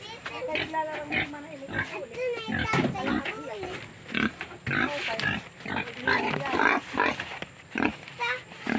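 Pigs grunt and squeal while being fed, with repeated short close-up bursts mixed with people talking nearby and occasional children's voices.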